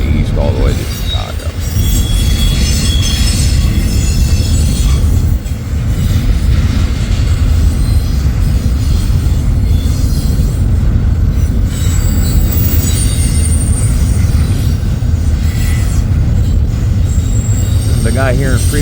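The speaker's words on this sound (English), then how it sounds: "this is the first eastbound train we had" A loud eastbound Union Pacific freight train passes close by in Fremont, with a heavy continuous roar of rolling wagons, squealing wheels and rhythmic clatter, and a few words spoken over the noise.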